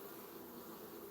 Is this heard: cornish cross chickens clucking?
no